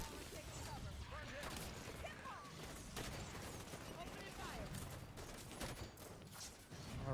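Grenades spammed at a rush of crawlers in Halo 5: Guardians, a dense, continuous barrage of explosions and gunfire rumbling through the whole stretch, with game effects and a voice talking over it.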